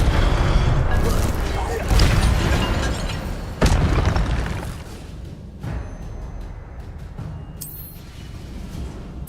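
An Incendio fire spell blasts in the Hogwarts Legacy video game with loud, sustained whooshing bursts and booms, while a voice speaks over the effects.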